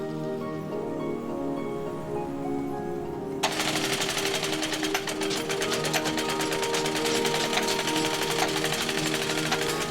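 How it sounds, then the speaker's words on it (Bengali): A stitching machine sewing shoes in a shoe-making workshop: a low steady hum runs for a few seconds, then rapid, dense mechanical ticking kicks in abruptly and continues loudly to the end. "এখানে জুতা সেলাই, ফিতা তৈরি এবং ফিতা ডিজাইনের কাজ করা হয়"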